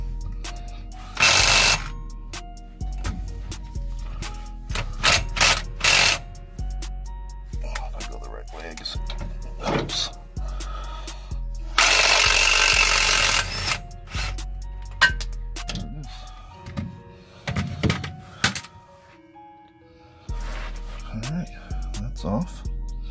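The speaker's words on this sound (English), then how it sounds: "I'm going to try to hit it with my portable impact here and see if that thing will" A portable impact wrench working on a seized rear stub axle nut of a Datsun 280Z, with repeated loud bursts of hammering separated by pauses. A person talks between the bursts.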